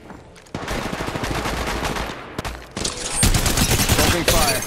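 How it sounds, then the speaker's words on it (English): Rapid automatic gunfire in the mobile game Apex Legends Mobile, dense bursts of shots that stop and restart, loud and close, with brief game voice lines mixed in. "Shots fired and they're hitting me."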